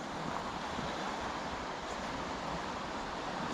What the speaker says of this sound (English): one of those waves just like overturns on the set and you see the white. That's where you hear it.